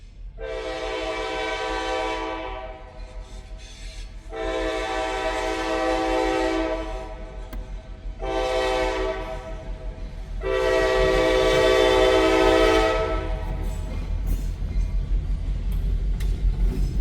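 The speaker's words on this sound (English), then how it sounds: "John filming a train as the train comes by." A freight train rolls past a campground, its horn sounding four long blasts over a steady rumble and rail clatter that grows louder toward the end.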